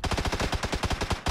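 Automatic gunfire in the video game PUBG: a rapid burst of about a dozen evenly spaced shots, loud and close, then a brief gap before another shot starts.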